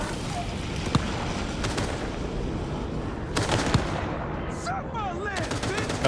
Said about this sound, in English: Are they shooting at me now?